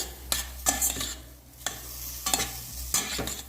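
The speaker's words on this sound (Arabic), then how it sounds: "بنحط الفليفلة اللي فرمناها. هلا بنقليهم ببعضهم." Chopped peppers and onion frying together in a pan for a mahshi-style dish, a low steady sizzle broken by several sharp scraping stirs at irregular intervals, close and alone with no talk.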